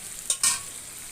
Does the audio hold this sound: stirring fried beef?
yes